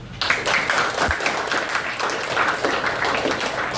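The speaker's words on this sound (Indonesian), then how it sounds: "Oke, kasih tepuk tangan." A classroom of students applauds together, a brief burst of clapping that starts abruptly and continues steadily near the recorder.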